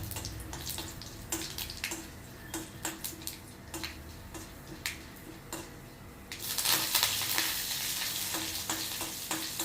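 Curry leaves hit hot oil for a tamarind rice gravy, already seasoned with mustard seeds, urad dal and fenugreek, giving a steady close sizzle with clicks and stirring taps that swell into a louder, fuller crackle near the end.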